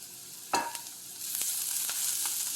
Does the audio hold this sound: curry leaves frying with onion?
yes